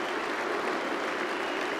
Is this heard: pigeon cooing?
no